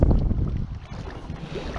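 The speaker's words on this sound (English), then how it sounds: "It's quite a bit of wind up here today." Wind buffets the microphone on a fishing spot, a brief low rumbling gust that is loud at first and then eases.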